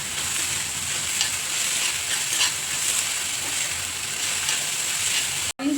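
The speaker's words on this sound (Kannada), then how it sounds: "ಸೊ ಇವಾಗ ಬೀನ್ಸ್ನ ಆ್ಯಡ್ ಮಾಡ್ಕೊತಿದ್ದೀನಿ." Native beans are stir-fried in a pan, giving a dense, even sizzle with faint stirring scrapes throughout, close and steady, ending in a brief cutoff.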